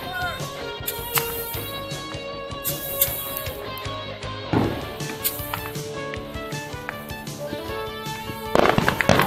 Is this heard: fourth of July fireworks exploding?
yes